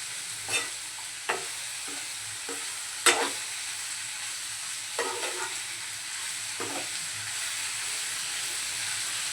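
Bitter gourd (karela) bhaji being stirred in a pan, with a soft steady sizzle and several scattered scraping clicks of the spoon against the pan, close by and without talk.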